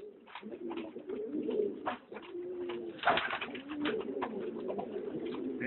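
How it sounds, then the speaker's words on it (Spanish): Several pigeons, including a male Córdoba breed pigeon, coo steadily and close by in low repeated throaty phrases, with a sharp flutter or knock partway through and no talking. "Hay un palomo de Córdoba"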